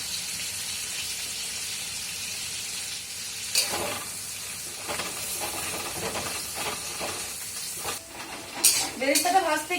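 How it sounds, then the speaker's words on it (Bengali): Four large chopped onions frying in oil over a very low flame for chicken biryani, giving a steady soft sizzle and hiss with occasional stirring scrapes, loudest near the end. "এবারে পেঁয়াজ ভাজবো।"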